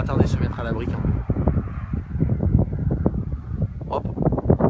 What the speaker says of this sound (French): Les rafales de vent commencent à arriver effectivement en limite de l'orage